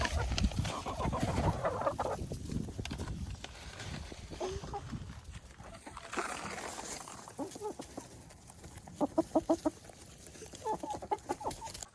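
Backyard chickens clucking and squawking as they peck at a tossed treat of mealworms, busy overlapping calls from the flock with brief people's voices in the background and a burst of sharp repeated clucks near the end.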